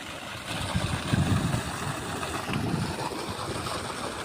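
A DC solar water pump set in a five-foot-deep pond pushes water out through a 2-inch pipe from a 3-inch delivery outlet. A steady, loud, broadband rush of gushing water continues throughout with no talking.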